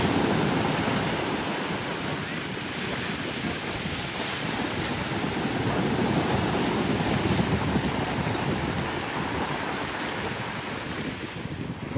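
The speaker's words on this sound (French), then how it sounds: "Je vais vous montrer les vagues, elles sont belles là, elles sont vraiment belles." Ocean surf breaks on the beach at Canggu, Bali, a loud continuous wash of rolling waves and wind filling the scene with no voices.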